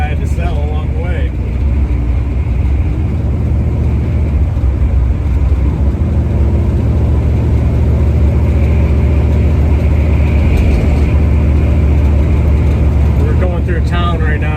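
A 1970 Chevrolet Nova with a 383 stroker V8 drones steadily and loudly throughout, with constant road and wind noise and a steady low rumble, heard from inside the vehicle.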